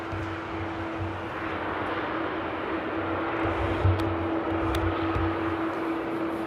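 An airliner landing at Amsterdam airport in the rain, a broad continuous roar of engines and reverse thrust with steady rain hiss, holding level throughout with a constant tonal hum.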